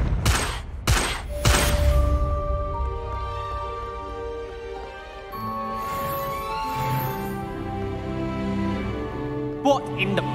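A Confringo blasting spell in the Hogwarts Legacy video game, heard as a burst of sharp, loud blasts in quick succession at the start, then sustained game music tones and effects.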